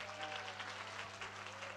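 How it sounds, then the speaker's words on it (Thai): Audience applause at a Thai Children's Day event, a continuous faint patter of many hands clapping at an even level throughout. "ใครอยากฟังเด็กบอกขอเสียงปรบมือหน่อย"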